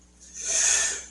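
One person sneezes once nearby, a short breathy burst that swells and fades within about a second.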